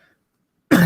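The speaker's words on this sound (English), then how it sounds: "I'm coughing a lot" After near silence, a single loud, harsh cough bursts out at close range, abrupt and rough.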